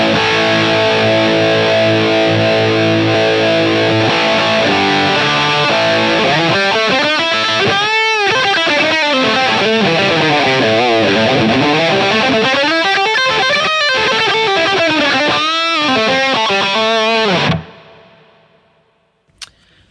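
Distorted electric guitar through a POD Go Brit JCM800 amp model with reverb and overdrive, a loud continuous stretch of chords and bending lead lines that stops abruptly near the end, leaving a brief fading tail.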